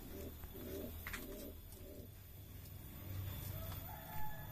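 Several low, rhythmic coos from male and female pigeons in a pigeon loft repeat in a steady pattern, fairly quiet against a soft background hum.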